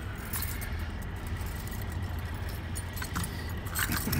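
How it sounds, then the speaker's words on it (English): Bunch of keys jangling with a steady metallic rattle inside a truck at a scrapyard, over a constant low engine rumble, with a brighter burst of jingling near the end. "Why don't you get rid of some of those keys, Kingdom?"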